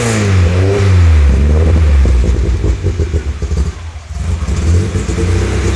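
A Volkswagen Golf GTI 1.8 16v engine with a newly fitted camshaft runs and revs close by, a loud, rough mid-pitched drone that rises, dips briefly and climbs again.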